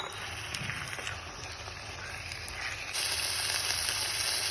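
Escalope sizzles in a pan on top of softened onions over medium heat, a close, steady hiss with soft crackles that grows suddenly louder partway through, with no voices.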